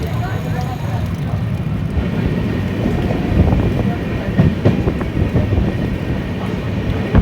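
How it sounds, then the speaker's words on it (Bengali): A passenger train rolls along its tracks past tea gardens in rainy weather on the route toward Hasimara, giving a steady rumble with faint rhythmic clicking throughout, heard from on board. "আর আমাদের ট্রেন রওনা দিল। এখন চলেছে হাসিমারার পথে।"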